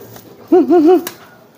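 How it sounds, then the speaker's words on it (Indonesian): A single kolong pigeon gives a short, close, warbling coo lasting about half a second, followed by a faint tap. "Nah, ini merpati kolong nih teman-teman."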